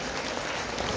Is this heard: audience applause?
yes